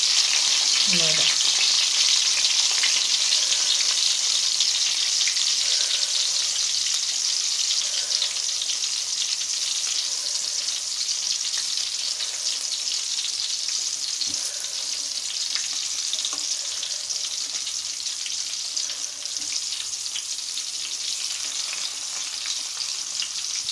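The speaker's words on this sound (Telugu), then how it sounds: "చేసుకున్న ఆయిల్లో వేసి ఇదిగండి ఇలాగా మగ్గనివ్వాలండి" Stuffed bitter gourds filled with chickpeas fry in hot oil, a dense, loud, continuous sizzle close up with a few faint clinks and touches along the way.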